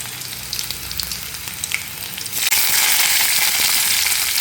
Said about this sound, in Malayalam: ഇനി ഇതിലേക്ക് കറിവേപ്പിലയും ഇടിച്ചു വെച്ചിരിക്കുന്ന വെളുത്തുള്ളി ഇട്ട് കൊടുക്കാം